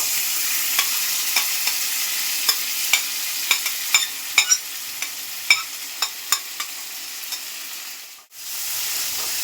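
Marinated quail fries in hot oil with a steady sizzle and scattered sharp pops and crackles, close up, then a brief dip near the end.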